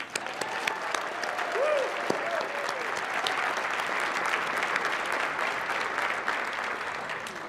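Sustained audience applause fills a hall at a special presentation event, steady dense clapping throughout with a few voices and faint sounds mixed in beneath.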